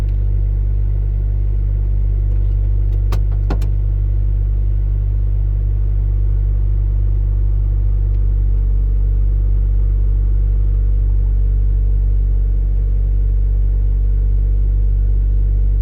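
A loud Mazda Miata engine with individual throttle bodies on a crude map drones steadily with a deep, throaty rumble, holding a fairly constant note while driving, with a couple of brief clicks early on.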